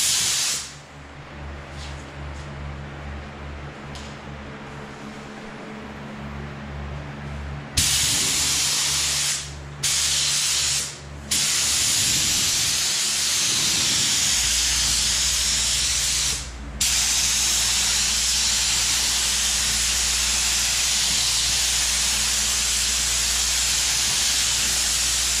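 A spray gun hisses loudly and steadily as it lays a tack coat of paint on the bodywork of a 2012 Toyota Camry in a collision repair shop, with a few brief breaks in the spray and a low hum underneath.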